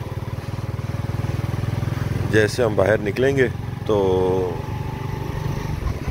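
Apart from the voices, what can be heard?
motorcycle riding in foggy weather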